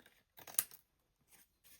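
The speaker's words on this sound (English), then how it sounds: "get your scissors and just cut that" Scissors snip through a paper journal card in a few short, crisp cuts, quiet and close, with one sharper snip among softer slices.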